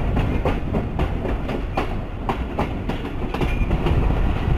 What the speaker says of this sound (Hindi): ग्यारह बज के 21 मिनट पे हरनपुर रेलवे स्टेशन पे पहुंच रही है मलकवाल पिंड दादन खान शटल ट्रेन